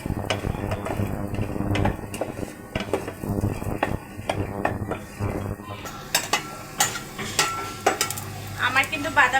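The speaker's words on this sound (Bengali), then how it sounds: "এখন আগে আমি বাদামগুলো ভেজে নেব।" Peanuts dry-frying in a pan for a village-style peanut bharta: continuous close scraping and stirring clatter of a spatula on metal with a low sizzle, growing busier and sharper near the end.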